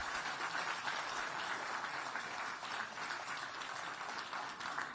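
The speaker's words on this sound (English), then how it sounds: "Well-deserved applause." Audience at a Hong Kong wristwatch auction applauding, a dense steady wash of clapping from many hands, moderately distant and even throughout.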